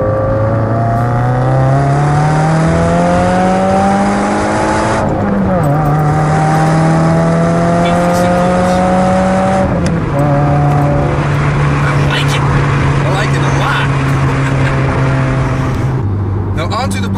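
A loud, close sports car engine climbs in pitch as it accelerates, shifts, and keeps pulling hard, the revs rising again in waves.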